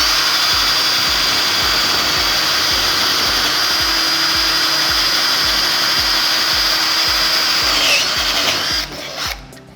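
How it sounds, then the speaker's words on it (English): A power drill bores steadily through the wood of a planter box base, a loud continuous whine with a pulsing low rhythm that runs for about eight seconds before slowing and cutting out. "drill halfway, turn it over and finish drilling"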